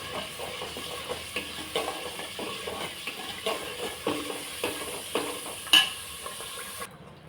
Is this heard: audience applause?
no